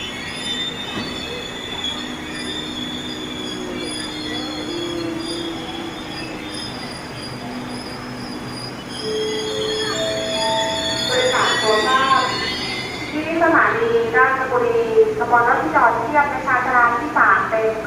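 An express passenger train pulls into Ratchaburi station in Thailand in the rain, a steady rumble building as it arrives, then loud rising wheel squeals and brake screeches near the platform toward the end.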